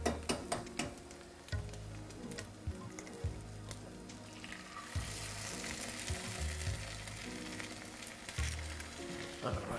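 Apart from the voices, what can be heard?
egg frying in a pan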